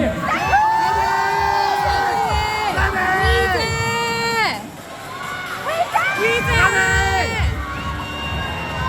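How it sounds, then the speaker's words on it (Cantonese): An audience at a film box-office celebration event shouting and cheering in repeated loud waves, with high whoops and rising yells, a brief lull in the middle before the crowd roars again. "你哋嘅聲亦都係打氣聲啦"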